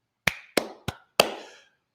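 Four sharp hand claps ring out, loud and close in a quiet space. The first three come in quick, slightly uneven succession, and the last has a longer ringing tail after a short pause.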